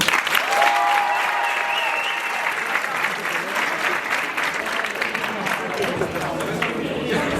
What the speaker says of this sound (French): Maintenant, tu peux retourner t'asseoir et on peut l'applaudir.